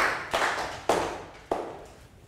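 A few separate, sharp claps ring out from a class in an English lesson, spaced apart with short decaying tails and no talking.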